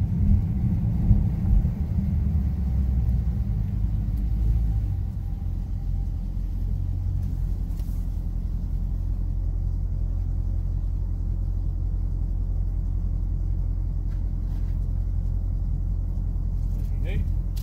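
A 2019 Dodge Challenger 1320 drag car makes a trans brake launch: a steady deep engine rumble holds throughout, heavier at the start and then settling into an even drone, with a voice speaking over it.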